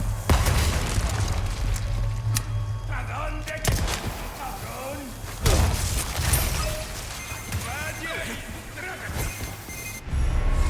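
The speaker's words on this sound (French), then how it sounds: "Attention, grenade." Grenade blasts in the Resident Evil 4 Remake video game: sharp booming bursts followed by crashing debris and clatter amid game action, with some speech-like sounds in the background.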